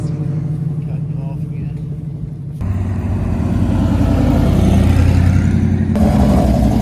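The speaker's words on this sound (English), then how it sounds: "This is a new car with a blower." A new hot rod car fitted with a supercharger blower rumbles nearby at a hot rod tour, its deep engine note swelling louder and rougher as it revs over several seconds.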